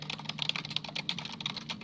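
Someone types steadily on a computer keyboard, with quick, even key clicks close to the microphone over a low background hum, and no one speaks.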